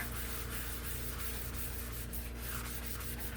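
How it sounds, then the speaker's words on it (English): White pigment ink rubbed onto a paper tag for a Christmas wreath tag, a continuous close scratchy rubbing with light rhythmic strokes and no talking. "then I'm gonna dab it off on my glue book. Okay, and then I'm gonna rub it all over."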